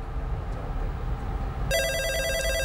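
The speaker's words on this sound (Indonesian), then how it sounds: "kita jawab telepon dulu" A telephone bell starts ringing partway through, a bright repeating electronic ring over steady background room noise in a finance talk show studio.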